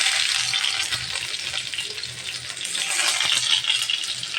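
About a cup of chopped onion frying in a wok, a steady, close, dense sizzle that continues without pause and with no talking.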